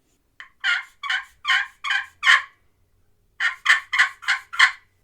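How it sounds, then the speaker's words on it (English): Two bursts of loud, rattling wild turkey gobbles, several quick calls each, separated by a short silence, clear and fairly close. "a few clucks and there's a gobble for you"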